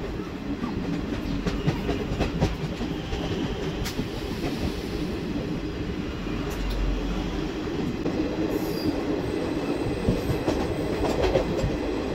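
An express train at a crossing near Burdwan station, heard as a steady, loud rumble of rolling railcars with clickety-clack wheel beats and faint squeals throughout, with no talk.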